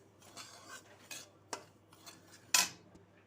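Metal spoon scraping and clinking against a pan as 250 grams of dry semolina is stirred and toasted, a few sharp scrapes standing out among softer intermittent stirring, close and fairly quiet.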